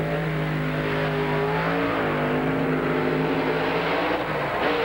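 A monster truck engine drones loudly at a 1995 Springfield racing event, a steady, throaty roar with a strong tonal hum that shifts slightly in pitch, sustained without pause and with no voices.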